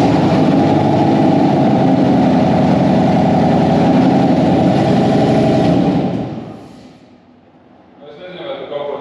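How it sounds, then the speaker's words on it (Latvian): A repaired Dodge Challenger engine runs with a loud, steady idle and a dense rumble for about six seconds, then cuts out, leaving a brief quiet before fainter sounds return. "Sāksim testēt motorīti, ne?"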